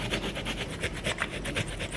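A piece of ginger rubbed quickly over a small, sharp kitchen grater, giving a close, rhythmic series of scratchy rasping strokes, about a dozen in two seconds, with no talking.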